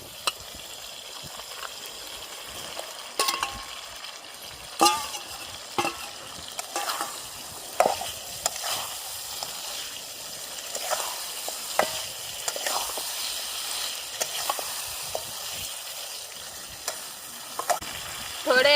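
Chicken sizzles steadily in masala in a pan by a river, with repeated scraping and clinking stirs punctuating the frying throughout.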